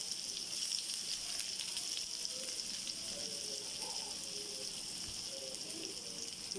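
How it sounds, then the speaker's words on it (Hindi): Onions browning steadily in a hot frying pan for a chicken haleem garnish, a constant crackling hiss with faint stirring sounds underneath. "अब हम साथ ही फ्राई पैन रख लेंगे और उसके लिए हमने प्याज ब्राउन करने हैं"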